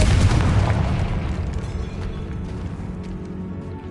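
A Confringo blasting spell goes off in a Harry Potter video game, a loud deep boom with a rumbling burst that slowly decays over several seconds, heard alone without voices.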